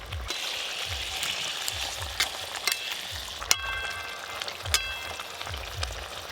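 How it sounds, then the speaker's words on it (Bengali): Fried katla fish pieces placed into a rapidly boiling curry gravy for kalia, village-style cooking; a steady bubbling sizzle with intermittent sharp clicks and knocks from the pot, no voices. "ঝোল খুব ভালো করে ফুটে গেছে, এবার ভেজে রাখা মাছগুলো দিয়ে দেবো।"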